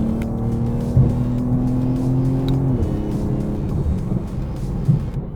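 BMW M2 CS sports car exhaust with the valves opened, revving steadily with a loud, droning engine note that rises and falls, heard up close with no talking.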